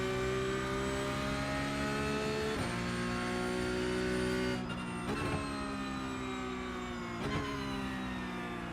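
Porsche Cup race car lapping Bathurst in the iRacing sim, a steady high engine whine held at speed, interrupted by a few brief shifts or lifts, loud and continuous with no talking.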